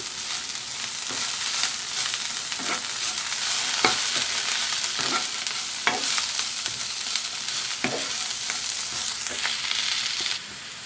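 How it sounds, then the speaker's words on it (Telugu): Chilli powder is stirred into a frying dondakaya (ivy gourd) and egg fry, bringing a continuous bright sizzle and repeated spatula scrapes and taps against the pan, close and steady throughout with no talking. "ఇప్పుడు దీనిలో కారం వేసుకుందాం ఒక హాఫ్ స్పూన్ వేస్తున్నాను కారం దీన్నంతా ఒకసారి బాగా కలుపుకోవాలి"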